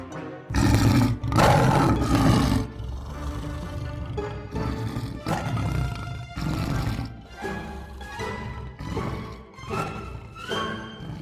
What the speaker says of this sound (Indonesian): Kayaknya suara macan.